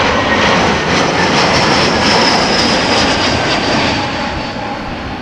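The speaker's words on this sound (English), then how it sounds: "an A321 arriving from London Gatwick." An Airbus A321 arriving at Amsterdam Schiphol from London Gatwick roars loud and close in a continuous jet-engine rush that holds steady, then slowly eases off.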